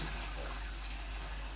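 Water is poured into a pan to cook a sauce for devilled sausages, a steady close splash and gush lasting under two seconds.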